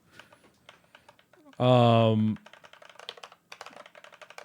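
Quick, light plastic clicks of a 3D-printed prototype Glyph fight-game controller's button switches being pressed in bursts, interrupted by a loud sustained voiced sound in the middle.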